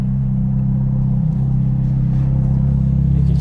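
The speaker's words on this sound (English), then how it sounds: "You can hear how much louder it is now that the valves are permanently open." An orange Ferrari 430 Scuderia on the road with its exhaust valves held permanently open gives a steady, loud, close engine drone, a low throbbing rumble with a slight swell toward the end and no talk over it.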